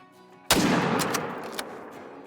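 A single loud, close rifle shot from the hunting game Call of the Wild, a sharp crack followed by a long rolling echo that fades over about two seconds.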